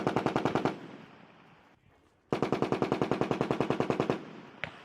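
An M240 machine gun fires two long, evenly paced bursts of rapid shots with a short pause between them, then one final isolated shot, each report loud and crisp.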